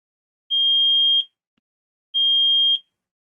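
Two identical shrill electronic beeps from an alarm buzzer switched on through the Blynk IoT app, each about three-quarters of a second long with a short silent gap between them, loud and clean against silence.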